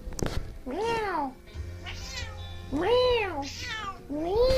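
A house cat meows in a repeated call-and-response with a person who imitates the meows, the long rising-falling cries alternating with the human's meow sounds over a low background hum, close and clear.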